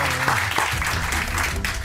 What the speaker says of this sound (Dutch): Groot applaus voor Racy.